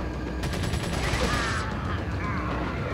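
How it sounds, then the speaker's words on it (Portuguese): Machine gun fire in Resident Evil 4, a burst of rapid rattling shots at moderate level that cuts off after about a second and a half, followed by quieter game ambience. "Vamos ver a metralhadora."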